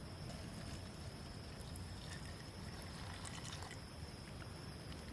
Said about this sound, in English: I'm going to add a little bit of water, just enough to cover up my navy beans and my green beans